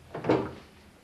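A door closing with one short, muffled thud in a quiet room, brief and fairly close, with no talk over it.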